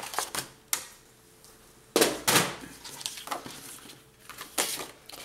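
Paper card cut while making a scrapbook multi-card album, a few sharp, close snips and slicing strokes spaced irregularly over a few seconds, with soft handling noise between them.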